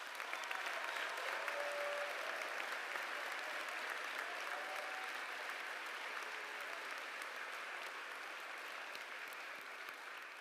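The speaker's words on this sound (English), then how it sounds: "give them a big round of applause" A theatre audience at a college graduate commencement claps steadily and evenly for the whole stretch, a dense, far-off wash of applause with no voices over it.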